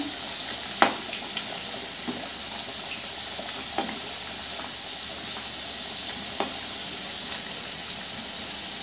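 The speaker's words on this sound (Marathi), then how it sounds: "हे आपले एक साईडनी व्यवस्थित तळले गेले. आता आपण ह्याला पलटून घेऊया." Balushahi frying gently in oil over a low flame while being flipped, giving a steady soft sizzle with a few brief clinks and splashes from the turning.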